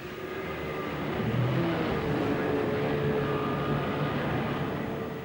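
Motorboat engine droning steadily at close range as the boat pushes into turbulent, powerful tidal water in a narrow coastal opening on the Kimberley coast of Australia, with a broad rumble of engine and churning sea throughout and no talk.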